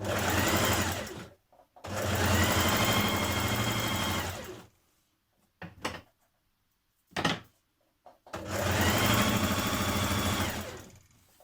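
A sewing machine hems a maxi dress in three sustained bursts of fast, steady stitching, separated by pauses with a few brief clunks and thumps, close and clear without any talking.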